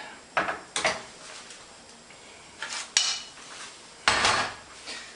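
Pasta sauce is ladled onto plates in a kitchen, with several sharp clinks of a ladle against pots and dishes spaced irregularly, close and without talk.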